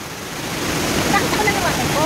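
Rushing water of Datun Waterfalls in Yangmingshan pours in a steady, loud, broadband roar that builds slightly and never lets up. No one speaks.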